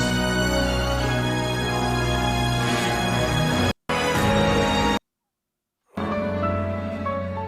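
Full, dense orchestral music from the Fire Emblem Awakening video game soundtrack swells with shifting sections, cutting out briefly twice, including a full second of silence, before resuming loud and sustained.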